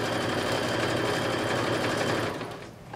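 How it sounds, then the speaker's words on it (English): A sewing machine runs in a fast continuous whir while stitching sleeve seams on a blazer, loud and close, then slows and stops near the end. "Back stitch and start stitching."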